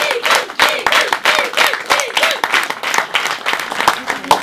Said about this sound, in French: Et je vous demande d'applaudir très très fort Nicole.